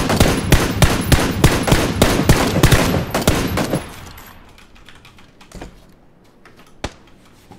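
Rapid automatic gunfire in PUBG, a loud close burst of evenly spaced shots lasting several seconds, then fading into quieter scattered distant shots and a single sharp crack near the end.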